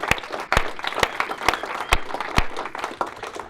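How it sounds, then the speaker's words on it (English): A church audience applauds warmly; scattered individual claps ring out in a loose, uneven rhythm, fairly close and moderately loud, with a few murmuring voices underneath. "yeah, we can clap for that."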